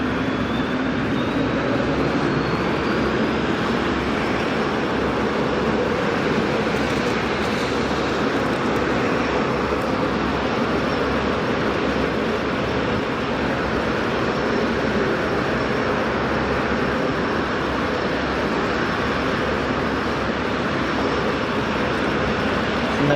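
A Boeing 787 at Sydney Airport gives a broad, continuous engine roar with a steady jet rumble and a faint rising whine, loud and unbroken throughout.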